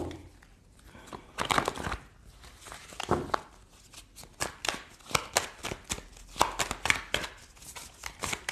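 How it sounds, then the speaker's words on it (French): Oracle cards from the Triade deck being shuffled by hand, a run of crisp riffling bursts and papery slaps in uneven rhythm, close and moderately loud with no talking. "on va prendre quelques cartes de l'oracle de la Triade"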